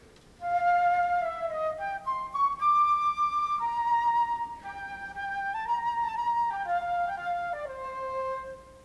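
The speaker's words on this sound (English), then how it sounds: "you could hear the flutes playing their version of Glory, Glory, Hallelujah." A bright flute melody plays alone in clear sustained notes, stepping through the hymn-like "Glory, Glory, Hallelujah" tune with a steady, moderately loud tone.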